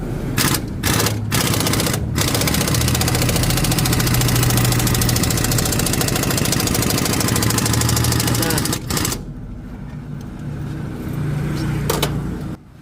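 A repaired Bajaj CT125 motorcycle engine runs with a steady, busy mechanical clatter and ticking, briefly interrupted by sharp knocks near the start, then drops to a quieter idle before picking up again.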